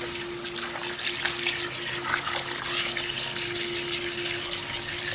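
Running water pours steadily from a tap as bonsai drainage pebbles are washed clean, a constant moderate splashing rush that fills the whole stretch with no talking.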